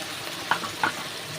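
Chili powder and turmeric fry in hot oil in a pan for a mutton curry, a steady close sizzle with two brief scrapes of a stirring utensil.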